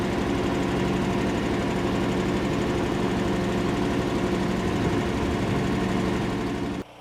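Engine of an Easton Made Axis vertical log splitter running at a steady idle, a constant loud droning hum that holds for about seven seconds before cutting off abruptly, no voices.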